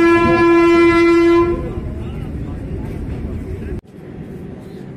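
A Humsafar Express train on the Madhupur to Anand Vihar route sounds a loud, sustained horn for about a second and a half, then its rumbling running noise continues steadily up close, cut briefly near the end.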